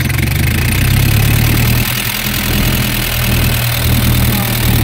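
An Isuzu single-tire heavy-duty truck's diesel engine idles at close range with a loud, steady, low rumble and an even throb that does not change.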